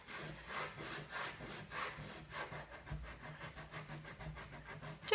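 A wet cloth rubbed back and forth over wooden furniture to distress the finish, a steady run of quick rasping strokes close up with no voice over it.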